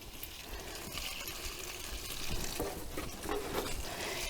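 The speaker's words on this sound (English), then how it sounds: "I'm going to give everything a good soak." A watering can pours water over plants inside a hoop house in a mid-February zone 6 garden, a soft, continuous splashing and trickling heard fairly faint with no talking.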